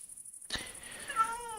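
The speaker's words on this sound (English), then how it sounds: "There was a cat fighting outside." A cat fighting outside lets out a sudden, drawn-out wailing yowl that bends in pitch after a moment of silence, over a faint high electronic whine.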